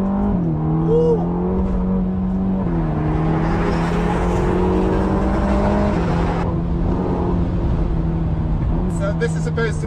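A Ferrari Roma accelerating on a track, its engine note climbing steadily through the gears with short pauses at the shifts, heard from inside the cabin while a driver talks excitedly over it.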